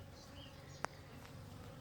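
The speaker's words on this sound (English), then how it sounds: "I found a lot of bees on Jaja's coffee" Bees working coffee plants near a passion fruit orchard make a faint, steady low buzzing hum close by, with a single sharp click partway through.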